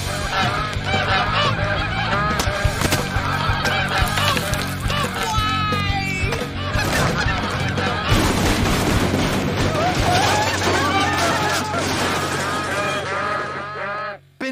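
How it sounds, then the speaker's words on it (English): Cartoon geese honking loudly and repeatedly in a dense, chaotic cluster, layered with music and other busy sounds throughout. "something's got to be done about those geese"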